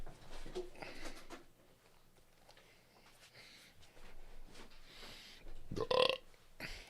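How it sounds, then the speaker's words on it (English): A person burps after drinking soda, one loud, short belch standing out near the end after quiet moments of faint soft noises. "I burped from the soda"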